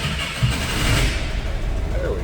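A 1968 International Scout 800 with its choke pulled cranks and catches, a rough, low mid-pitched engine rumble building and settling into a steady run, fairly close.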